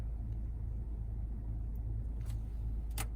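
A car's engine idles just after start-up, a low, steady rumble close by inside the vehicle, with a couple of faint brief clicks and no talking.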